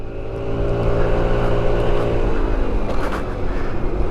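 A 600cc sports motorbike ridden on the road toward a racetrack, its engine droning steadily close by with a rising hum and wind rush, with no speech.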